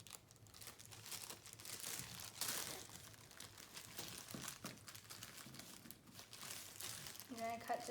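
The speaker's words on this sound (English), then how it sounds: "You're gonna cut this right down the side until you get it open." A plastic bread bag being cut open down its side, with steady crinkling and crackling of the plastic through the whole stretch, close up, and a voice talking at times.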